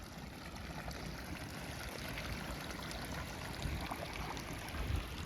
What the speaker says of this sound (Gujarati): લસણમાં પાણી પાવાનું હાલે છે